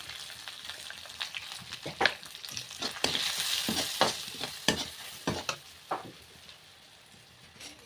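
Moringa drumsticks frying with turmeric, salt, asafoetida and spices, a constant sizzle broken by repeated scraping stirs of a spoon against the pan, close and without talk.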